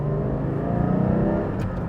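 A Porsche 718 GT4 engine revs steadily and loudly at close range around 3,000 to 4,000 RPM, holding a sustained mechanical drone with a slight rise in pitch.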